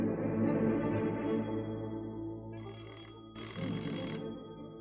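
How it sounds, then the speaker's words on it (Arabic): A telephone bell rings in a steady repeating pattern, loud and close, with bursts of bright ringing in the second half over a humming room background. "ردي على التليفون"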